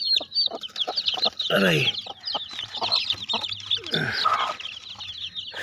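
A Rhode Island Black hen with ten chicks gives soft, continuous clucks close by, while high chick peeps chatter throughout and a voice speaks briefly.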